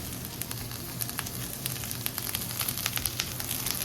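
Pork belly for Bicol Express sizzles in its own fat with bay leaves and black pepper, giving a dense, even frying crackle close up. Faint utensil stirring sounds through, and no one speaks.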